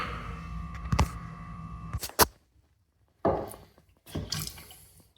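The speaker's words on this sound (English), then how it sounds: "it's still dripping" A dripping faucet at a home sink, with the hot and cold supply shut off, lets out a few separate close drips and wet taps with short silent gaps between them in a quiet room.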